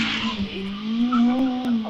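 Empire Evo hillclimb race car at Wiscombe Park during the British Hillclimb Championship, a short burst of tyre squeal and engine whine rising and holding, fairly close and loud, with no one speaking.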